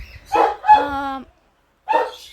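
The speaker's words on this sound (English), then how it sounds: "we're just gonna go with barking dogs in the background" Dogs bark nearby, loud and close, in a few short bursts: two quick barks, a drawn-out whining bark, a pause, then another bark.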